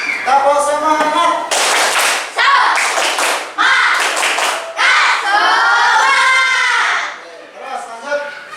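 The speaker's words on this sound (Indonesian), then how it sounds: "Kita tepuk semangat ya." A standing class does the rhythmic 'tepuk semangat' clap, sharp bursts of group clapping mixed with loud chanted voices in a classroom.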